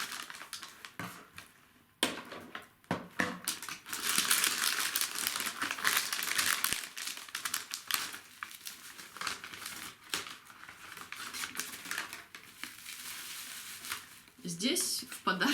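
A plastic parcel bag crinkles and rustles as it is unpacked, with busy, irregular crackling that comes in bursts and continues through most of the stretch, fairly close.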